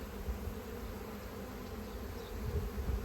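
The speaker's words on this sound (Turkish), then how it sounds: "Arı hızlı bir şekilde bal çekiyor şu an arkadaşlar" Hungry honeybees swarm a hive frame, feeding fast on honey, producing a continuous low, dense buzzing hum, close and steady without pause.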